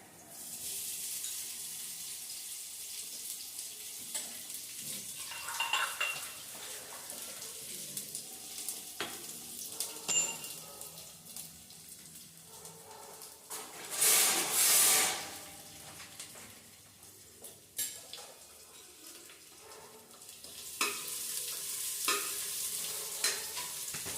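Quiet sizzling as ginger garlic paste fries in a pan with cumin, occasional stirring scrapes, a louder hiss flaring midway, steady and close throughout.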